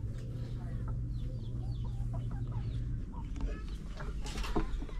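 Pet chickens cluck steadily and close by after being fed and given fresh water, with overlapping calls and a low hum running underneath for the first few seconds.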